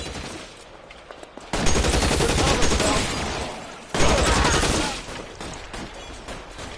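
Gunfire from a shootout in L.A. Noire comes in two dense, loud bursts of rapid shots, each lasting a couple of seconds, with quieter gaps between.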